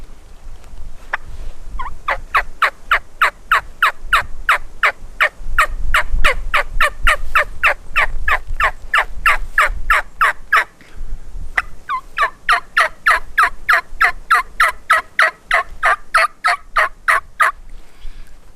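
A wild turkey gobbler sounds off in response to a hunter's call: long runs of rapid, evenly spaced sharp notes, loud and fairly close, with a short pause midway before a second burst. No voices.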